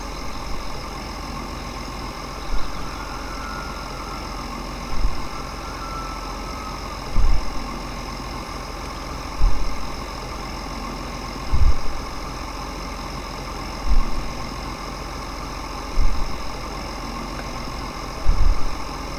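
A John Deere Trike tractor engine idles steadily in Farming Simulator 2013, a constant droning hum with a soft thump recurring about every two seconds, heard alone without talk.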